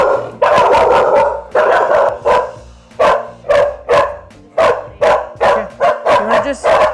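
Two doodle dogs barking loudly and close, a rapid run of about a dozen sharp barks in irregular rhythm, some overlapping, with no talk.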